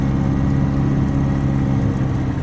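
An old 1980 car engine idling steadily, a low, even rumble with a constant drone throughout, close by and fairly loud.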